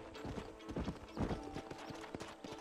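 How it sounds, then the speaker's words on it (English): Hooves of a horse in the Red Dead Redemption video game clip-clop in an uneven run, mixed with a whinny. The sounds are fairly faint and muffled, as if receding, with no talk over them. "My horse got the absolute heck out of here."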